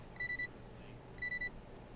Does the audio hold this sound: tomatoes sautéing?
no